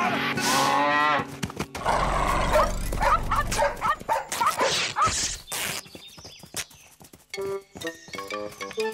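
Dogs bark and yelp loudly amid a chaotic scene, with a bull-like low moo and other animal cries mixed in, close and busy throughout.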